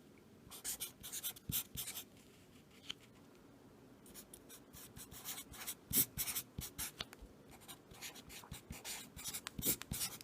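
A pen or pencil scratches across paper as a Taylor polynomial is written out by hand, quick bursts of strokes and taps in uneven rhythm, close and faint, with no voices.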